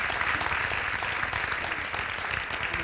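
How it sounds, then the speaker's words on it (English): Audience applause at a university lecture series event, a steady, dense clapping that holds at an even level throughout, with no voices above it. "I think we should give them a round of applause"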